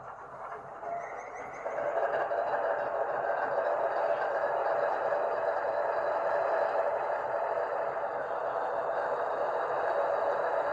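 A GP40-P2 locomotive diesel engine starts up, going from a quiet hum to a sustained loud droning roar that holds steady for several seconds, with no talking.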